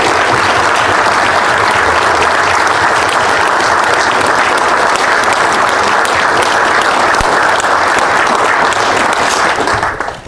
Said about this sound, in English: please join me in one more final round of applause for Jeff